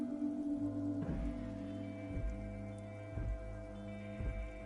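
Rain patters steadily on a cluster of empty wine bottles at night, with soft dripping taps and a few louder drops landing about once a second over a low background hum.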